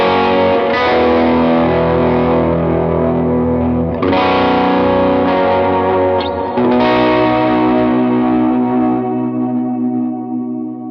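Electric guitar chords ring out through effects pedals with heavy distortion and a chorus-like shimmer, sustained strums with two clear re-attacks, loud and continuous with no talking.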